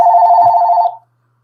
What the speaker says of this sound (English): But excuse the phone for a second.